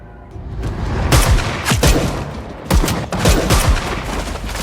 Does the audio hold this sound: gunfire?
yes